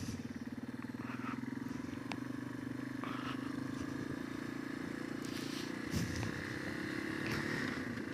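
A 2005 Yamaha XT225 dual-sport motorcycle ridden in second gear, a steady low engine drone with faint rattles and wind, moderately quiet and continuous throughout.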